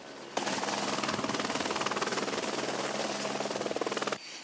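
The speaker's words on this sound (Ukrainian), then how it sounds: "За лічені хвилини вертоліт заходить на посадку." An air-taxi helicopter comes in to land in Kyiv, its rotor producing a loud, steady rapid chop with a high whine. The sound starts and stops abruptly and plays alone, with no talk over it.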